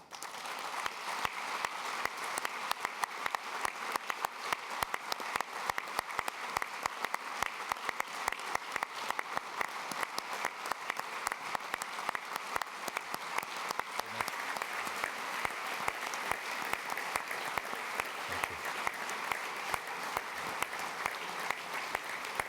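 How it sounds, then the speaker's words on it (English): Congress delegates give a sustained, even round of applause for the re-election of UEFA President Aleksander Čeferin, a dense crackle of many hands clapping at a steady level from start to finish. "re-elect the current President of UEFA, Mr. Aleksander Čeferin, for a mandate of 4 years as UEFA President by a big round of applause"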